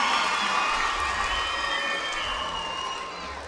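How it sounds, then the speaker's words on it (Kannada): Children applauding loudly at a Children's Day celebration, a dense wash of clapping with some cheering from the crowd, steady and full before easing slightly at the end. "ಎಲ್ಲ ಪುಟಾಣಿ ಮಕ್ಕಳು ಜೋರಾದ ಚಪ್ಪಾಳೆಯ ಮೂಲಕ ಅವರಿಗೆ ಧನ್ಯವಾದಗಳನ್ನು ಅರ್ಪಿಸಬೇಕಾಗಿ ಕೇಳಿಕೊಳ್ಳುತ್ತೇನೆ"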